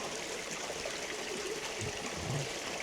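A waterfall gives a steady, full-bodied rush of falling water, constant and unbroken, heard at a moderate distance.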